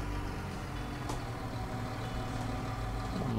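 A John Deere tractor engine runs in a farming game, a steady low droning hum at an even level with no breaks, close and moderately quiet.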